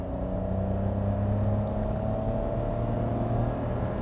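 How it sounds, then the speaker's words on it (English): A 2022 Hyundai Casper, a small SUV, heard in sports mode. Its engine holds a steady, moderate drone with a low hum and faint whir, more idling or a gentle rev than a sharp rise. "let me just put the car into sports mode and let you hear it"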